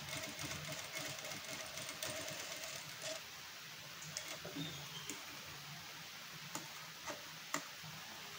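A sewing machine stitches the side seam of a blouse with a faint, quick ticking run. The rhythmic stitching fades in and out, with a few sharp clicks in a quiet room.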